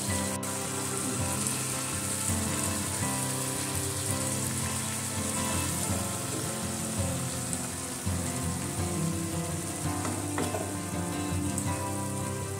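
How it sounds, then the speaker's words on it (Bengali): Fish curry broth bubbling and sizzling steadily in a pan after fried kajari fish is added, a dense continuous crackle and simmer with no talk. "ঝোল ফুটে উঠেছে, ভাজা মাছ দিয়ে দিচ্ছি।"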